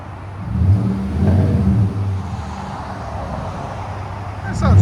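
Nissan Titan 5.6L V8 fitted with a Flowmaster Super 44 muffler, heard close up with a throaty low rumble that swells in a rev, settles, then climbs again at the end.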